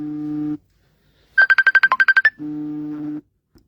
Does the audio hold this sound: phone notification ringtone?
yes